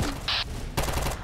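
Rapid automatic gunfire in the war strategy game Terminator Dark Fate Defiance, a dense burst of shots during an assault, loud and close in a brief chaotic moment.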